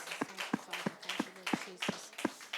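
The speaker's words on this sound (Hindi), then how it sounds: "Come on, clap hands for Jesus and thank Prabhu Him." A church congregation clapping hands in unison for Jesus, producing about eight sharp, evenly spaced claps in a steady rhythm at moderate volume.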